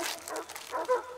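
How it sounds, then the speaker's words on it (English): Distant dogs bark and yip in a scene from the film Signs, with a few faint, brief yelps, the last one sharper and a little louder. "Can you hear those dogs barking?"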